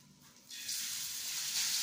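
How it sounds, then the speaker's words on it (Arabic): Minced meat dropped into a preheated pan with a little ghee, bursting into a hissing sizzle that rises suddenly and stays as a steady, bright frying noise close by. "شايفين صوت الطاسه او ليه عملت الصوت ده؟ عشان انا كنت مسخنه الطاسه الاول"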